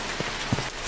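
Steady rain falls in the horror game The Mortuary Assistant, a continuous hiss of drops on surfaces with a couple of soft heavier patters, filling the brief moment without voices.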